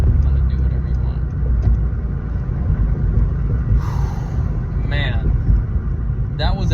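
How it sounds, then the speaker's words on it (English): A ninth-generation Honda Civic Si doing a burnout, with a loud, steady engine roar and rumble holding throughout, a few brief higher squeals cutting through, and someone talking over it. "Man, that was a nasty burnout."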